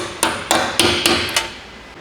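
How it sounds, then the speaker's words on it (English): A hammer strikes a 12mm socket to knock down a locking washer while fitting an OEM TRD skid plate on a 2010-2023 Toyota 4Runner: five sharp, evenly spaced metallic blows, close and loud, with no talk. "using a 12mm socket and a hammer to knock down this locking washer"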